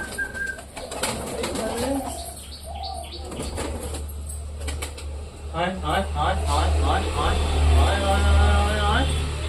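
Pet pigeons inside their room feed and coo, with bursts of wings flapping and soft burbling calls close by, and voices heard alongside.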